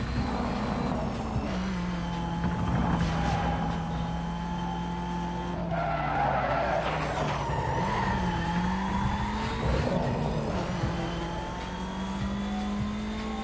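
Race car engine in Need for Speed Most Wanted, a loud steady drone with shifting pitch, revving and tyre squeals as the car skids through turns, with no voices.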